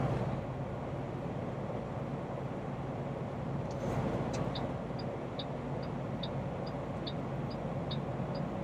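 A flatbed truck rolls through the desert on the way toward Nogales, giving a steady, even drone of engine and road noise from inside the cab, with a few faint ticking clicks partway through.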